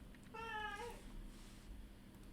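A house cat lets out a single clear meow, close but quiet, in a calm indoor room with no talking.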